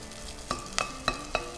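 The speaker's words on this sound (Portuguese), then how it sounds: "Então eu vou colocar essa linguiça na panela" Sausage (linguiça) frying in a pan while soup is prepared, with a steady close sizzle broken by a few sharp clinks and scrapes of stirring, no voices.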